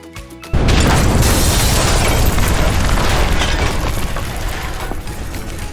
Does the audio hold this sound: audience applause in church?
no